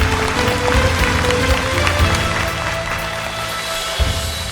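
Audience applause greets a contestant taking the stage at a Bangladeshi singing competition semifinal, a dense, steady wash of clapping that holds throughout and eases slightly toward the end.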